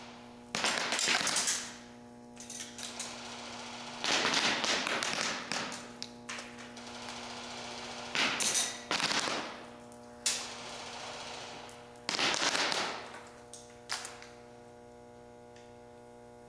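Magpul PTS airsoft gun shooting at a target 180 feet away outdoors, giving a series of sharp pops spaced a few seconds apart, some in quick pairs, over a steady low electrical hum; nobody speaks.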